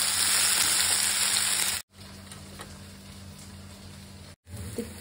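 Potatoes frying in a pan on low heat, a steady, dense sizzle filling the whole stretch, briefly cut off twice, with no talking.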